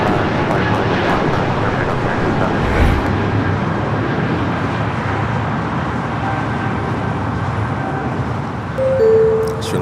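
Jet airliner taking off at LAX airport, a broad, loud engine roar that holds steady through the whole stretch with a faint background hum and no clear voices.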